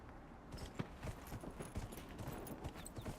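Quiet, rapid hoofbeats clip-clop steadily in a continuous rhythm in the video game Dragon Age: Inquisition, faint and alone against a soft background.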